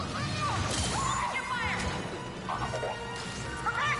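Grenades blast in Star Wars Battlefront 2 story mode, several crashing explosions in close succession among gunfire-like clatter, with voices speaking over the action.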